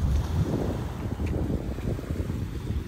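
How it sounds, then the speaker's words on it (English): Sea waves surge and batter against the breakwater at Brixham, Devon, on a sunny day: a continuous loud low rumble of water and wash with wind buffeting the microphone, no voices. "listening to that sound of the sea and the ocean just battering up against something"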